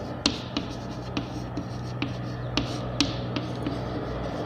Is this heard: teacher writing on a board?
yes